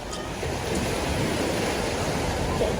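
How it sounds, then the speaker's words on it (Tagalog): Steady broadband roar of sea waves washing onto a simple local beach, continuous and fairly loud with a soft rush of wind, no voices present. "Ito yung simpleng dagat sa amin."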